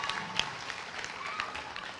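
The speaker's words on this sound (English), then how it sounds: "Thunderous round of applause for Mr. Johnny Garrett and the Park Avenue custodial staff for their technical assistance." Audience applause at an elementary school moving-up ceremony, a steady patter of many hands clapping at moderate distance across the whole stretch, with a few sharper individual claps standing out.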